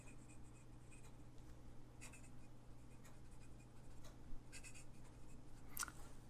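Cursive handwriting with a fountain pen, a faint close-up scratching of the nib on paper in continuous strokes with a few sharper flicks, alone with no talking.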